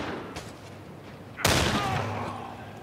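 A single sharp gunshot bursts out partway through a firefight in The Lamplighters League, preceded by quieter ambience and a faint earlier pop, then decaying into a ringing tail.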